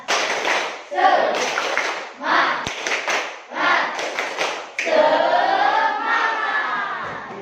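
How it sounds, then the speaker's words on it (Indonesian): A school class performs the rhythmic Tepuk semangat clapping chant, groups of young voices shouting in bursts punctuated by sharp unison claps and slaps, loud and close with brief pauses between phrases. "kita juga seperti biasa melakukan Tepuk semangat"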